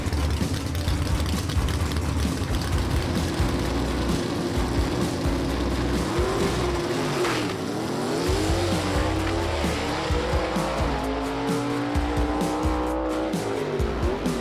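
A gasser drag race car with a Par race engine roars loudly down the strip, engine howling with shifting pitch and tire noise under crowd and track ambience.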